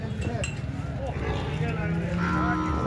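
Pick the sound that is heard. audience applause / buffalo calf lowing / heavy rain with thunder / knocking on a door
buffalo calf lowing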